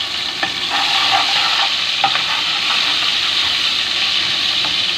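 Guar beans with garlic and green chilies hiss steadily in a hot pan while a spoon stirs them, several light scraping clicks over a bright, continuous sizzle, close up and without speech.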